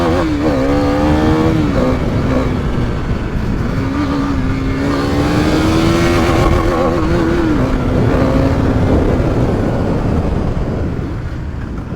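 A KTM Duke 390 BS4 motorcycle engine revs hard and close, its pitch climbing and falling in repeated sweeps over a steady loud rumble with no talking.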